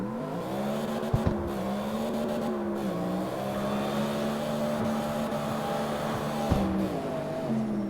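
A car engine in the racing game CarX Street with automatic clutch, a steady droning hum that rises slowly, with a couple of sluggish gear changes marked by brief dips and clicks.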